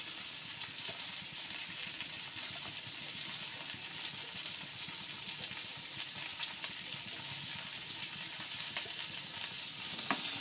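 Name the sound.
garlic sautéing in a pan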